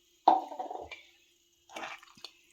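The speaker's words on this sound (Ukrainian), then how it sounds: "Я ще додаю півстакана води." Water poured in two short splashing bursts into a pot of kulish, a Ukrainian millet porridge with chicken, the pours close and separated by a brief pause, with no talking.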